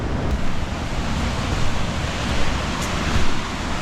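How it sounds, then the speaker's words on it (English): Steady broadband rushing of water flowing under a bridge along a bikepacking route, with some wind noise on the microphone, continuous and fairly loud with slight swells throughout. "we're gonna go check out the water under the bridge"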